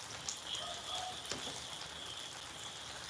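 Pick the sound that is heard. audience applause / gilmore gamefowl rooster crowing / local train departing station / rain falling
rain falling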